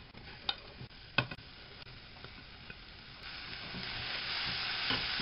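Chopped mushrooms and Provençal herbs sizzle softly in a frying pan while a utensil taps and scrapes as it stirs them, and the hiss builds louder toward the end, with no talk.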